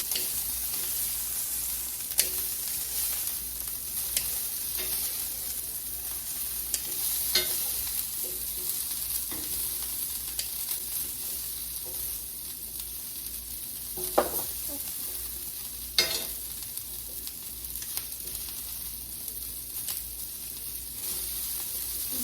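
Bite-sized broccoli pieces grilling in a smoky home kitchen give a continuous, even sizzle and hiss, broken by a few sharper pops and crackles, with no talking.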